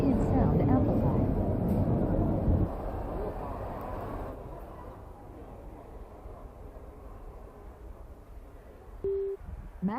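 Coffee shop ambience as heard through Microsoft Surface Headphones with maximum noise cancellation: a steady murmur of background chatter and room noise, louder at first, then dropping and thinning out, with a brief tonal beep near the end.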